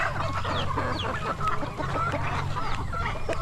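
A rooster and hens cluck and murmur close by, several birds calling in short bursts over a low steady background hum.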